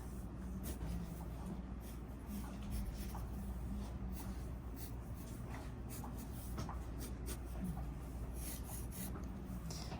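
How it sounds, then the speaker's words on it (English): Pencil scratching and rubbing on paper while drawing a trapezoid side by side, a steady close-up rasp over a low background hum, with no talking. "So we're going to draw a trapezoid."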